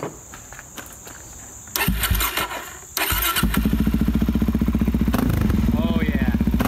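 A 2019 Suzuki DR-Z400 supermoto engine cranks, catches and starts, then settles into a loud, rapid, throbbing idle with a brief rev, close by.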